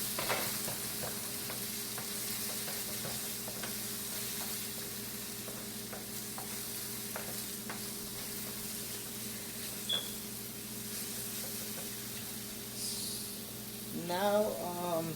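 Carp frying in a covered pan gives a steady, fairly loud sizzle with scattered light pops and crackles, joined near the end by a brief rattling of utensils.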